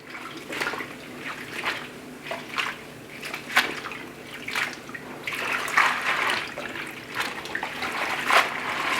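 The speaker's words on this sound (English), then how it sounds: "reach into the greens and kind of agitate them, agitating the greens as you go to release the dirt, bugs, and whatever else that could be in there" Collard greens are swished and agitated by hand in a sink full of water, making irregular sloshing and splashing bursts that rise and fall, close and moderately loud.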